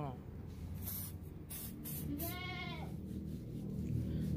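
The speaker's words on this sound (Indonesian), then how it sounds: "Ini bagian tulang bagian punggungnya juga kita semprot-semprot dan diratakan." Medicine sprayed along a goat's back and spine to treat a skin disease, heard as several short bursts of hiss, with a goat bleating once in the middle over steady background noise.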